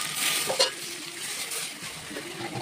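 A spoon stirs chicken curry in a pan, with scraping strokes over a soft sizzle and a couple of light clinks of utensil against the metal.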